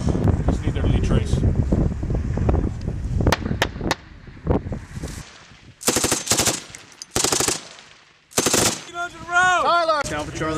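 U.S. Marines firing a machine gun during a live-fire exercise in Australia: loud, rapid bursts outdoors, several distinct strings of fire separated by pauses, with wind noise and voices calling out between them.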